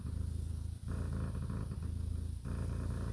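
A cat named Savannah purrs in a close, low, rumbling rhythm, with continuous throaty cycles and brief pauses between breaths.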